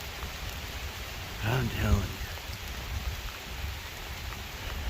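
Rain falling harder on a deer-hunting day outdoors, a steady dense hiss of drops throughout, with someone speaking briefly partway through.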